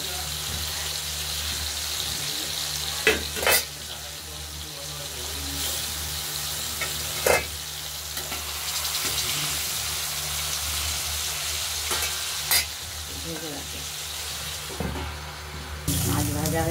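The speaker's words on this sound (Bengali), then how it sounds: "মাছ ভাজা বসিয়ে দিলাম।" Katla fish, a large carp of about four and a half kilograms, sizzles steadily in hot oil in a home kitchen, with a continuous crackling hiss and a few sharp clatters and stirring knocks near the pan.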